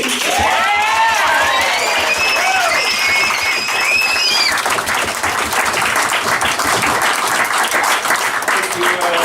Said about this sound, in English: Can we all applaud that poem?